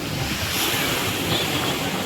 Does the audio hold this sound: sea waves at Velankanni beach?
yes